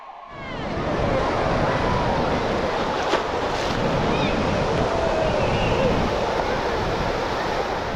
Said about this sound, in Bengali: আমি আছি এখন ওল্ড দীঘার এমন একটা সি বিচে যেখানে শুধুমাত্র বালি দেখতে পারবে তোমরা